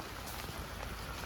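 Steady rain patters densely on a garden during Storm Bert, a close, even hiss of drops with no voices.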